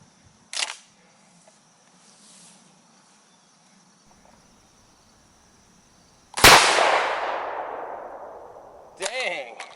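A Stoeger M3000 shotgun with no choke fires once at a target 15 yards downrange, a single sharp blast with a long fading tail, then a metallic clatter of the action cycling, with faint clicks before.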